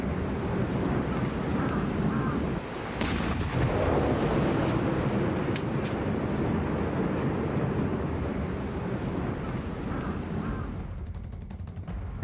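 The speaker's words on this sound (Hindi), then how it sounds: "दर्शकों को एक बार फिर हम ये तस्वीर दिखा रहे हैं कि कितना बड़ा ये धमाका डिफ्यूज करते वक्त" A large bomb blast set off during defusal gives a sustained, loud, rumbling roar that fills the whole stretch, with crackling debris and fading toward the end, heard at a distance.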